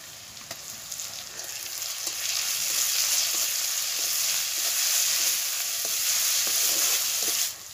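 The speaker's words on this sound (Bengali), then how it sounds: "এবারে আমি রসুনটা দিয়ে দেব" Garlic sizzles with half-fried onions in hot oil in a pan. The frying hiss is steady and close, dotted with small pops and crackles, and it fades slightly at the very end.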